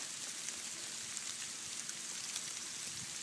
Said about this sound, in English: Yeah, this is hail.